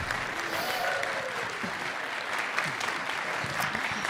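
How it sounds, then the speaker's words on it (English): An audience at a US Senate debate hosted by the Colorado Republican Party applauds the candidates, a steady wash of clapping from a crowd heard at moderate distance with faint voices underneath. "let's go ahead and give our candidates a round of applause for being here"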